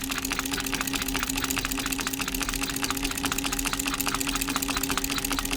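Singer sewing machine fitted with a buttonholer attachment stitching a buttonhole, a steady rapid mechanical chatter with a low motor hum, running continuously and close, with slight table vibration.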